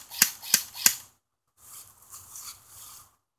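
Three sharp snapping shots from an airsoft gun fire in quick succession, followed by a pause and a softer rustling, mechanical whir.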